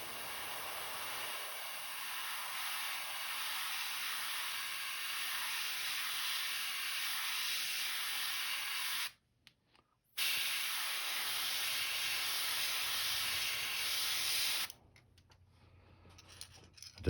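Airbrush hissing a continuous fine spray of paint onto a custom crankbait lure, steady and close, broken by a one-second gap near the middle and stopping toward the end.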